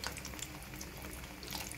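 Frozen onions frying in oil kept not too hot, a steady soft crackle and bubbling close by with faint higher spatters throughout, alone with no talk.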